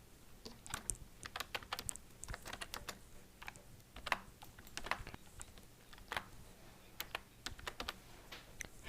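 Quick, irregular clacking of typing on a computer keyboard, with close, crisp keystrokes coming in short bursts and small pauses, heard alone at a low level.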